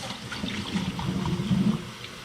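Water poured slowly over a hedgehog named Birdie during a bath, splashing and trickling steadily at close range for a couple of seconds with no talking.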